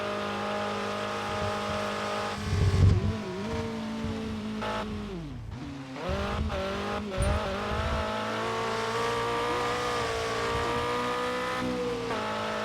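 A race car engine in RevHead revs and climbs through the gears, with a loud burst and tire noise early, a sharp dip and recovery midway, then sustained high-pitched droning.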